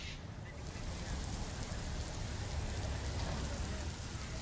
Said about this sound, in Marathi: एकीकडे मुंबईमध्ये मुसळधार पाऊस सुरू आहे